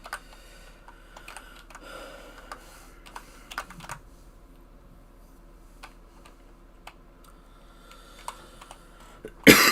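Sparse, scattered key taps on a computer keyboard at a desk while programming a Pokémon Red-playing robot, quiet clicks spread across the stretch with a louder burst of noise at the very end.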